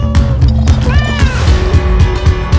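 A cat meows several times at close range, with short rising and falling calls over a steady low background hum.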